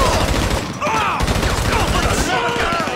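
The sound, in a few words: gunfire in Grand Theft Auto 5 video game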